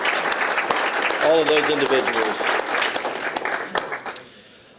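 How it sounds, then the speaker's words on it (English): A round of applause from an audience at a mayor's employee recognition awards, brisk clapping that starts under a speaker's voice, then thins out and fades over a few seconds. "So let's have a round of applause for"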